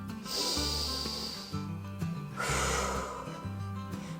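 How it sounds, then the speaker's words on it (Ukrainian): Young children blowing hard on a pencil in a preschool class, two long breathy blowing bursts with a short pause between them, close and fairly loud. "Ще раз глибокий вдих. І сильно подуйте на олівець."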